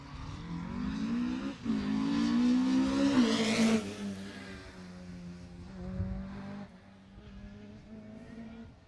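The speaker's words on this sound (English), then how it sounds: "so that was car 9, Martin Waters in their BMW E30" A BMW E30 rally car on a stage rally passes at speed, its engine rising to a loud roar before pitching down as it moves away, then fading with gear changes in the distance.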